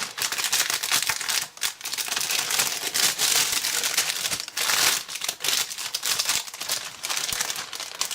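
A plastic bag of model kit parts for an ICM Panzerspähwagen P204 (f) is crinkled and handled, loud close rustling and crackling in irregular bursts with brief pauses.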